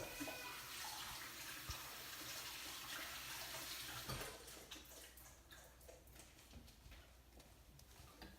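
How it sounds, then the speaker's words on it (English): Hands washed under a running tap, a broad rush of flowing water that fades after a few seconds into scattered splashes and clattering drips, fairly quiet and without talk. "let me go wash my hands"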